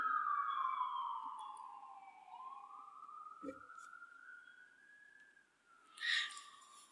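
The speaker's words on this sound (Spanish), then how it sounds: "Una sirena." A siren wails in a smooth rising and falling sweep, loud at first, then easing into a steadier mid-pitched tone, with a brief thump and a short bright burst near the end.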